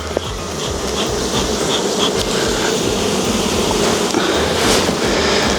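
Honeybees drone in a steady, dense buzz throughout an open hive inspection, close and loud, with no talking.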